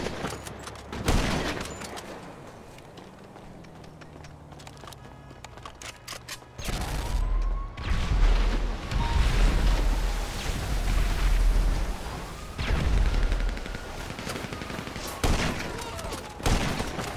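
Vehicle turret gunfire in the game GTA Online, sustained rapid bursts with heavy low rumble and whooshing sweeps, loud from the midpoint on after a quieter, sparser opening.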